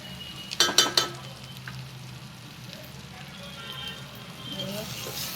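Spicy Solapuri-Kolhapuri style vegetable curry stirred in a pan, with a quick run of sharp metal clinks from a spoon against the pan early on, then a steady low sizzle.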